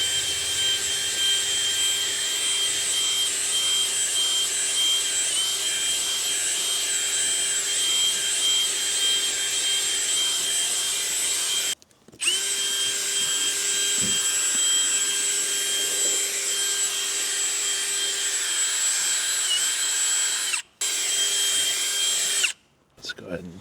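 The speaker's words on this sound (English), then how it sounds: "Going to take a little drill brush." A drill-driven brush scrubs the carpet of a 2003 Lexus LX 470, with a steady, high whining motor hum running continuously and cutting out briefly a few times, close and moderately loud.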